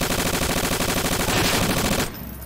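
Sustained rapid machine-gun fire in the video game Garry's Mod, loud and continuous for about two seconds, then cutting off abruptly into quieter background noise.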